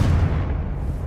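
Confringo fire spell blast in the video game Hogwarts Legacy, a loud, deep explosive boom that rumbles briefly and fades, with no talk.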